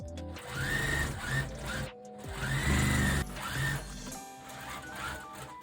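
Sewing machine sewing waist elastic onto a doll-style skirt built from a petticoat, with close mechanical whirring in several bursts that speed up and slow down, separated by brief pauses.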